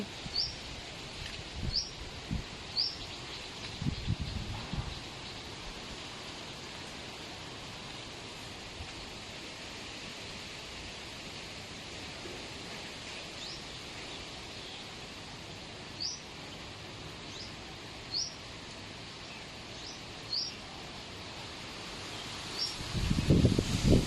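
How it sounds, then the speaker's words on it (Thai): Strong wind rustles through trees on a cold morning, making a steady, soft, close hiss of leaves. A few faint bird chirps and a low thump near the end sit over it. "เช้าวันนี้อากาศเย็นค่ะ เสียงลมพัดแรง ได้ยินเสียงลมไหมคะ"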